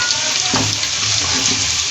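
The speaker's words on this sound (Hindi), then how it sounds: "इसको अच्छी तरीके से प्याज के साथ ही से ब्राउन कर लें।" Onion, garlic and cumin frying in a pan, giving a loud, steady broadband sizzle with one brief stirring scrape near the middle, heard alone.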